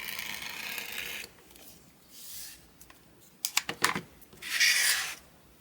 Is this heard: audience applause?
no